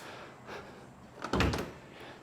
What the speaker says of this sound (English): That door shuts perfect.